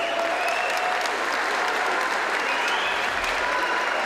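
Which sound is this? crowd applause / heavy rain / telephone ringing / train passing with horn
crowd applause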